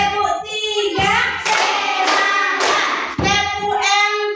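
A group of children in an Islamic religious education classroom claps together on a counted beat, sharp hand claps in quick bursts that ring out close and loud. A teacher's voice chants between the claps.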